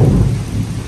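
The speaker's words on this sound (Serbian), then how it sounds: "Trenutno jako pada kiša" Heavy rain pours down near a bunker at Klana while a deep thunder rumble rolls underneath, a loud, dense roar lasting about a second with no voices.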